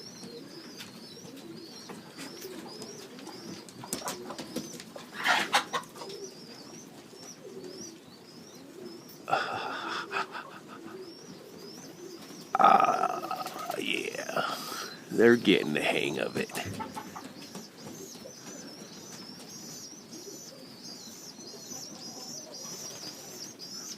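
Racing pigeons coo repeatedly at low volume in a loft, their soft calls running throughout with occasional wing flaps and rustling, while someone talks over them in a few spots.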